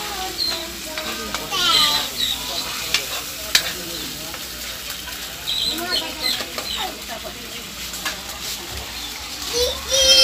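Sardines fry in a pan with a steady sizzle and occasional stirring scrapes, while people talk and children's voices carry in the background.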